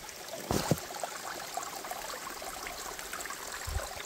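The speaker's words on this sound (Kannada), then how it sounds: "ಈ ನೀರಿನ ಸೌಂಡ್" Water of a small stream spills down a little waterfall in a constant, moderately loud broadband rush, with a couple of brief knocks and thuds near the start and end.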